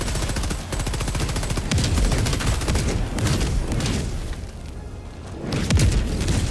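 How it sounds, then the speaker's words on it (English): An orbital barrage in Helldivers 2 pounds down as a dense, continuous volley of loud booms and rapid gunfire-like cracks, rumbling without pause and swelling again near the end. "Firing orbital barrage."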